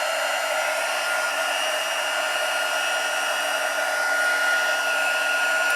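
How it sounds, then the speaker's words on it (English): A heat embossing tool blows hot air over embossing powder on a tree design for a gold pizza box, a steady, close, unbroken whir and hiss with no voices. "Heat emboss this tree, which really won't take very long anyway."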